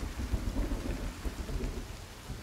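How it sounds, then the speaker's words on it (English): Steady rain and rolling thunderstorm rumble in the Sons of the Forest video game, a dense continuous downpour hiss over low booming thunder, loud and close with no voices. "I need to turn this rain off."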